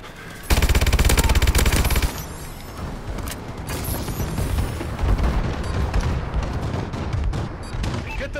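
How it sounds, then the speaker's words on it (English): Heavy gunfire and booming blasts from an enemy bombing run in Call of Duty: Advanced Warfare, with a dense rapid burst early on giving way to a sustained loud rumble of explosions and shots. "Enemy bombing run overhead."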